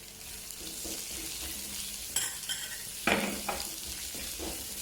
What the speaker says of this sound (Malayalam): സവാള ചേർത്ത് കൊടുക്കുന്നുണ്ട്.